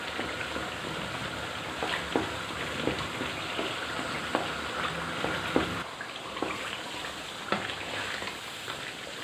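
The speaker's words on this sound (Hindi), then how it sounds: "बस अब इसको हम ऐसे ही पकाते जाएंगे मसालों के साथ," Chicken karahi with spices and tomatoes sizzles softly in a pan, a quiet steady frying hiss broken by scattered light pops and occasional stirring clicks.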